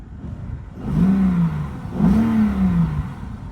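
A Porsche 928 car engine with no serpentine belt fitted, revved twice in quick succession, each rev rising and falling back to idle, loud and close with no talk.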